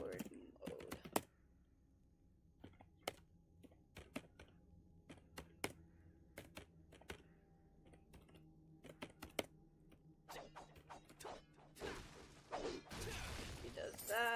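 Keys on a computer keyboard are tapped in scattered bursts and single presses during play of the online game Vindictus, quiet and close, with some talk in the background.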